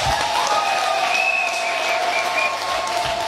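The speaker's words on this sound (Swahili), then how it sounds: "Yesu makofi mazuri." A church congregation claps for Jesus during a worship service, a dense, steady wash of applause sustained loud and close for the full stretch, with a faint sustained tone underneath.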